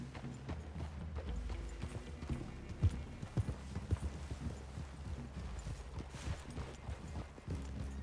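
Horses' hooves clip-clop over ground in the video game Red Dead Redemption 2, a steady walking rhythm of soft thuds under low ambient noise, with a few louder hoof strikes standing out.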